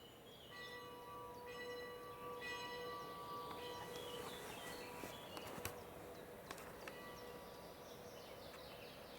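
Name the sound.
church bell ringing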